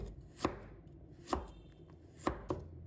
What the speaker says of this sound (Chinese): 再改刀切成姜丝。